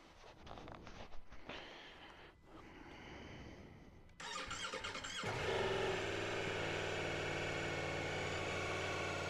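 A 2024 Ducati Multistrada V4S Grand Tour motorcycle is cranked by its starter and fires up about halfway through, then settles into a loud, steady, close idle after some quieter handling noises.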